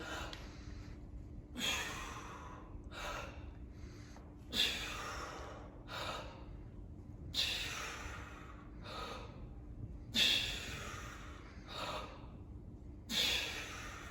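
Deep, forceful breaths taken during barbell back squats, with about eight loud rhythmic inhale and exhale bursts spaced one to two seconds apart, heard close up with no talking.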